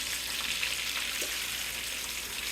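Chicken fried steak sizzles steadily in hot frying oil, a dense continuous crackle and hiss close up, with no voices over it.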